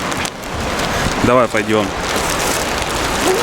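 Steady rain falls outdoors in Yaremche in the Carpathians, a continuous broadband patter throughout, with a child's and an adult's brief talk rising over it midway.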